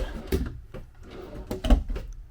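A wardrobe drawer in a Grand Design XLS 22MLE travel trailer slides and bumps, several close knocks and rattles scattered across the moment without talking.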